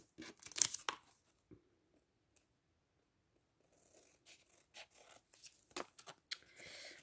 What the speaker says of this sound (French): je vais couper mes petits bords